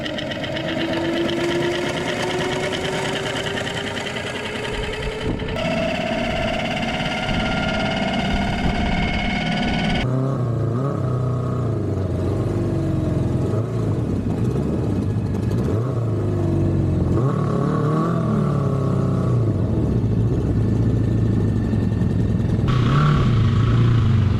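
A homemade three-wheeled trike, converted from a bike, runs loud and steady throughout the ride, its engine note shifting in pitch as it changes speed.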